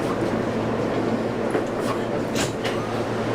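Steady loud rumble of a New York subway car interior in motion, with rattling wheels and brief metallic squeals riding over the constant low drone, no voices.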